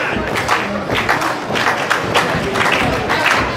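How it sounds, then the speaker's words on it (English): Wrestling crowd in Akron clapping unevenly, a loud scattered patter of hands with uneven rhythm filling the arena alongside general crowd noise. "The crowd here in Akron does not know how to clap."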